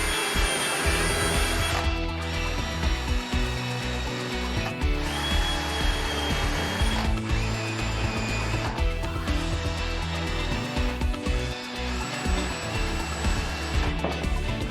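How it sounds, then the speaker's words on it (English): A power drill bores holes for hardware through wood in several long, steady whining bursts. It runs loud and close, with short pauses between passes, and no talking. "I drill out for the hardware to secure the two pieces together."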